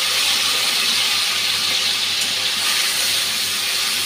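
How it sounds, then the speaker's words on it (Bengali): Paneer frying in hot oil with salt and turmeric gives a steady, loud, broadband sizzle that holds evenly throughout with no voices. "নুন দিয়ে ভেজে পনিরটা ভাজতে দিয়ে দিচ্ছি"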